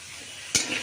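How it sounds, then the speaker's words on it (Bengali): Cauliflower frying in a pan, heard as a steady soft sizzle that jumps to a sharp, louder burst of hiss near the end, as if stirred or turned. "এদিকে কপিটা ভাজতে দিয়েছি।"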